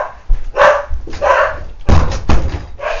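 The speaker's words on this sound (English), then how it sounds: "Oh, dogs are going crazy!" Several dogs bark loudly and excitedly close by in a house, in repeated overlapping bursts, with a possible door thud among them.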